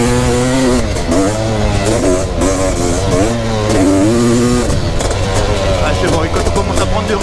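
A 500cc racing motorcycle engine runs loud and steady close by, its pitch rising and falling as the throttle is worked, with a voice talking over it.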